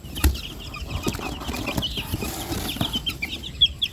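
Young chicks peep in a busy cluster of high, thin chirps, with soft rustling and faint flutters close by as the birds are handled ahead of a fowlpox vaccination.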